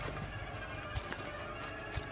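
A horse in the video game A Plague Tale: Innocence neighs and whinnies, with hooves clip-clopping underneath, a short, fairly quiet burst over a busy game soundscape.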